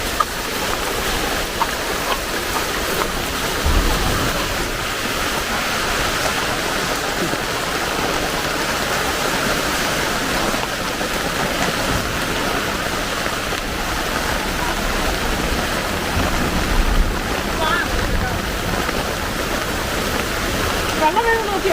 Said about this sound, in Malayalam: മഴയാ, കുടയില്ല.